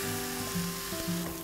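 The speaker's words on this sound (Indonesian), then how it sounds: "Kita aduk sampai terlumur dengan bumbu ya" Seluang fish and tempeh are stirred in balado spice paste in a hot pan, giving a continuous loud sizzle with a few soft scraping sounds, and no talking.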